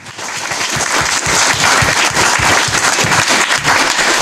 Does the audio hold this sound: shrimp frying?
no